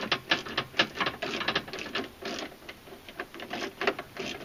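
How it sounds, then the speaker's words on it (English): A hand ratchet snugs up the lock nut under a stake pocket anchor's eye bolt on a Polaris Ranger bed, giving a steady run of quick, close clicks with no talk. "to go ahead and snug up the lock nut on the bottom of the anchor"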